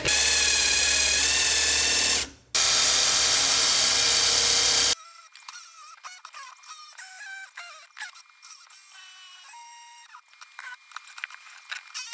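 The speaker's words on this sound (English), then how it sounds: "Try drilling it." A loud, high-pitched power drill whirs continuously for a few seconds, stops briefly, then runs again before giving way to quieter scraping and handling sounds.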